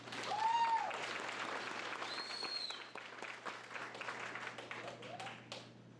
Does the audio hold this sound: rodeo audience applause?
yes